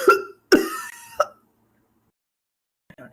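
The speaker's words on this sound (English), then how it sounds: "have them take a few coughs within the same breath" A person demonstrates several coughs in a single breath during a respiratory exam, seated slightly bent forward with the head a little forward and holding a pillow: two close, voiced coughs and a short catch, then silence and a faint final cough.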